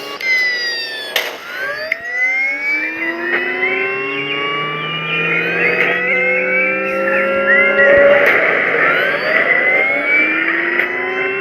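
A dragster car in the video game Dude Theft Wars accelerates with nitros, its engine whining upward through repeated rising gear pulls, loud and close, with a few sharp clicks early on.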